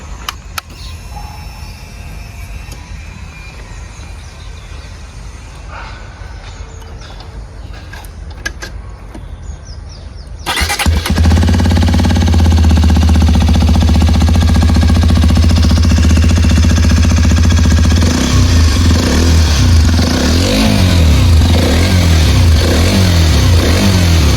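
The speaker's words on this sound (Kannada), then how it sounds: "ಜಾಸ್ತಿ ಟ್ಯಾಪೆಟ್ ಸೌಂಡ್ ಬರ್ತಾ ಇದೆ ಟ್ಯಾಪೆಟ್ ಸೌಂಡ್ ಬರ್ತಾ ಇದೆ ಇಂಜನ್ ಸೌಂಡ್ ಜಾಸ್ತಿ ಬರ್ತಾ ಇದೆ" A Hero XPulse 210 motorcycle engine, suspected of tappet noise, starts up partway through and then idles loudly and steadily with a dense mechanical clatter.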